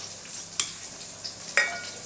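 Finely chopped small onions hit hot oil in a pan for a greens stir-fry, giving a faint steady sizzle broken by two or three sharp clicks of stirring.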